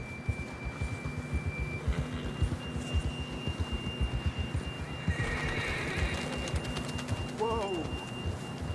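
In Red Dead Redemption 2, a horse's hooves clop in a steady rhythm while it neighs, ending in a clear whinny near the end, under spoken dialogue.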